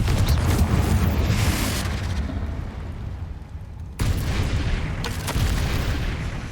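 A Confringo fire-blast spell in Hogwarts Legacy erupts in a loud, booming rumble that fades, then a second heavy burst hits at once and roars on steadily.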